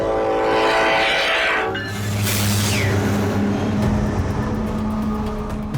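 A slow-moving freight train rumbles loudly and continuously nearby, with a sustained horn blast early on and steady wheel and car noise as it rolls past.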